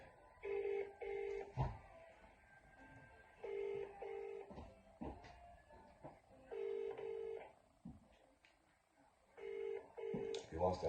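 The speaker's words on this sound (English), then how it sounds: "So I'm gonna phone him now," Telephone keypad dialing tones, a series of short evenly spaced DTMF beeps in several bursts with pauses between, heard close and clear alongside some background noise.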